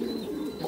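A pigeon gives a soft, low cooing call, a brief throaty warble heard close by with no other sounds around it.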